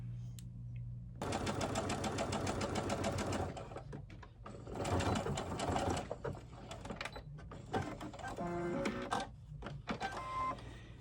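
A serger stitches a seam on an 18-inch doll dress, running in several fast mechanical bursts with short pauses between them, close and steady with no talking.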